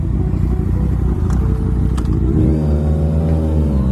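A Yamaha FZ-09 motorcycle passes on a city street, heard as a steady engine drone whose pitch shifts and rises about midway through, with no talking.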